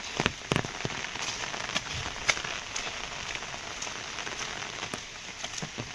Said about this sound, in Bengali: তারপরে বৃষ্টি পড়ছে